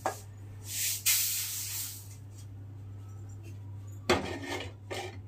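Rice is dry-roasted in a pan, giving bursts of dry rattling, hissing scrapes and metallic clinks over a steady low hum, close by with no speech.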